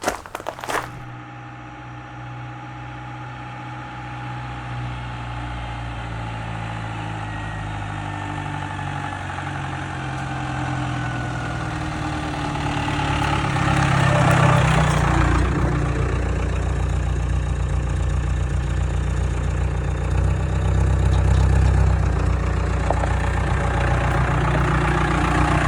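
A classic GMT400 pickup truck engine idling nearby, a continuous low rumble that swells a little louder and rougher during the second half.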